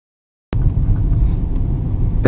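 Engine of a manual car during a driving lesson, a steady low rumble building as it revs before a gear change, heard close from inside the cabin after a short silence.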